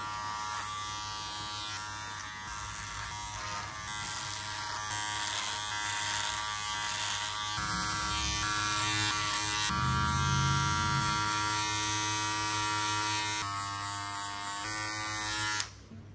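Electric hair clippers cut wavy hair during a pompadour haircut, giving a steady, close, loud motor buzz that runs almost unbroken, shifting slightly in tone as the blade moves through the hair.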